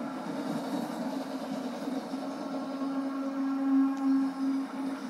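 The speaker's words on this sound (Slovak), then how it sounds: "Vlak." A train in the Plants vs Zombies Garden Warfare video game passes with a steady droning rumble and a sustained low tone that swells louder near the end.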